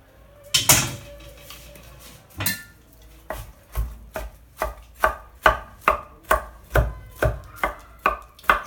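Cooked broccoli is chopped on a chopping board with a knife: two loose cuts, then a steady rhythmic run of about a dozen close, crisp thuds on the board.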